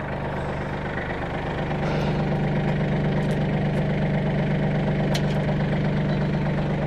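A sub compact tractor engine idles steadily nearby with a low, constant rumble, running alone with no talking.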